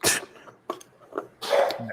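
Several sneezes and sneeze-like bursts come in short sharp outbursts close to the microphone, spread across two seconds with a louder final one.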